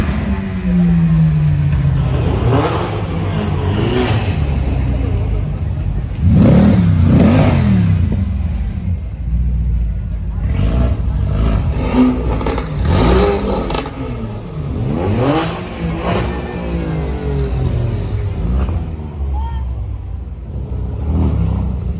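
A Brabus 700 GT arrives at the Zoute Grand Prix street event, its engine revving loudly in repeated rising bursts over a steady rumble of surrounding traffic and crowd noise.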